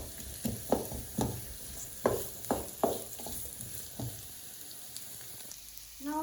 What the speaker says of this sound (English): I'll be frying it till it becomes little translucent.